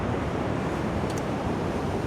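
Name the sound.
wind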